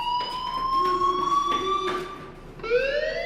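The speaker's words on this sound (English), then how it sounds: "do you hear that fire alarm?" A school fire alarm in the video game Life Is Strange, a loud continuous electronic tone with a steady pitch that slides upward near the end, sounding alone without voices.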